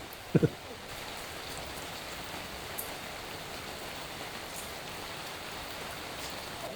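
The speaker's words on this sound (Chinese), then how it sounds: "下着大雨，看着远处的茶山，品着西湖龙井" Steady, dense heavy rain hisses continuously at a low level over the tea hills of Longjing village, Hangzhou, with a couple of brief knocks near the start.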